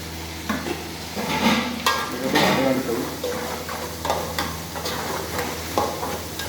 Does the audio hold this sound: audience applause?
no